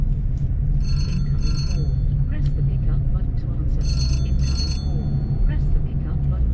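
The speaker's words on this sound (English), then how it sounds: "I forgot to put my phone on silent." A mobile phone rings inside a car during a driving test, two bursts of an electronic ring repeating under continuous talk and a low road hum.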